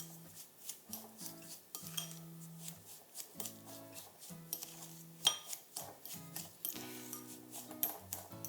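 Sugar and butter being mixed in a bowl for mango bread, a quiet run of repeated scraping and knocking strokes from a utensil against the bowl, with faint tonal music underneath.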